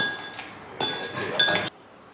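Ice cubes clinking against the sides of a mug as iced chai is stirred, a few light, close glassy taps in short bursts.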